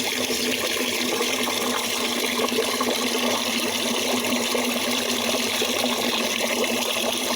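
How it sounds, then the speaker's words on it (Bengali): Tap water runs steadily into a container, a continuous even rush and trickle held close by for the whole stretch with no break, in a rain-damaged outdoor setting. "6 লিটার হইলে আমি বন্ধ করে দিব কলটা।"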